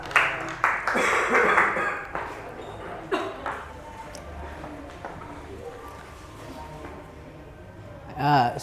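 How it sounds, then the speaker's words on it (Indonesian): Brief burst of classroom clapping for a student during a math lesson, heard near the start and fading quickly, with a teacher's voice talking over and after it. "Tepuk tangan buat Mas Alfa."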